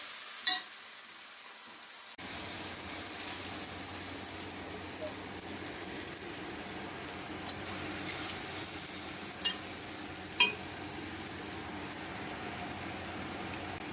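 Garlic, about a spoonful, frying in a pan with a steady soft sizzle and a few faint clinks of stirring, quiet and continuous for a long stretch.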